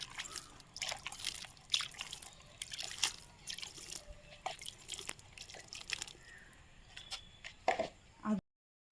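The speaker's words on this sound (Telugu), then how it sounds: "ఇలా ప్రెస్ చేసి దీని మీద ఈ బెల్లం వాటర్ అయితే వేయాలి." Jaggery water dribbling and dripping onto pressed kitchen compost in a bucket at home, a run of close, irregular wet drips and small trickles that continue steadily for several seconds before stopping abruptly.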